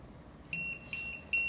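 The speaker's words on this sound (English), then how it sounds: "It is flash and beep." A Retekess TD158 wireless guest pager emits three short, bright electronic beeps at a steady rhythm, close and fairly quiet, with no one talking.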